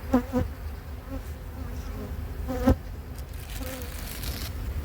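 Honey bees hum steadily around an open hive colony in a Canadian apiary, a continuous close drone with a few louder individual bees passing near, no talk.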